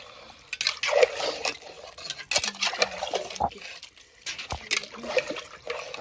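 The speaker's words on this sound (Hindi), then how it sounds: "अभी इसमें हम डाल लेंगे पानी" Water pours into a pressure cooker holding Kashmiri meat, in quiet irregular splashes and trickles broken by short pauses.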